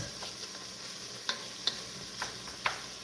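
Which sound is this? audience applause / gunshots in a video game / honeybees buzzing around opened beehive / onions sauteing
onions sauteing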